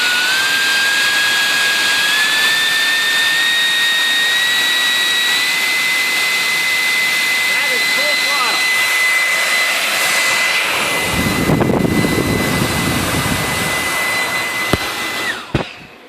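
An electric ducted fan salvaged from a computer server screams at full throttle, a loud steady high-pitched whine with a rising tone, then a rushing gust of air before it spins down at the end.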